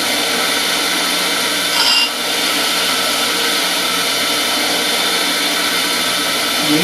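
A router bit is ground to sharpen its cutting edge, giving a steady, loud, continuous abrasive whir with no pauses and barely any change in level.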